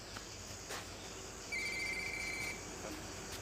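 Telephone ringing: a thin electronic ring tone rises briefly over a steady hiss with soft clicks, moderately quiet, with no talk during the ring.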